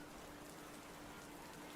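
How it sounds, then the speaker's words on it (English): Lukewarm rain in the video game Burrows falls as a constant, even hiss of dense drops, faint and unbroken across the short span with no voices. "this constant onslaught of lukewarm rain isn't exactly helping."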